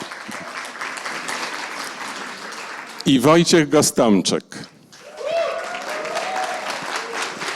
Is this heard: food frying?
no